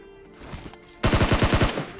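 Gunfire in the mobile battle-royale game PUBG Mobile: a rapid automatic burst of about seven loud, close shots following a few fainter pops, with no talking.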